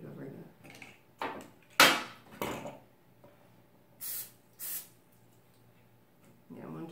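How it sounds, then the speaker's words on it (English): Cooking spray is misted onto puff pastry strips for cream horns in two short, close hissing bursts, after some clattering handling noises and brief talk. "So we spray them down?"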